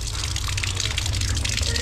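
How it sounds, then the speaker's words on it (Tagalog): Water gushes steadily from a tap in a bathroom, a loud continuous rushing flow close by that holds constant for the whole moment. "ang tubig dito is running water lang"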